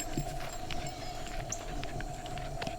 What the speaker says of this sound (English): to hear the horses off in the distance.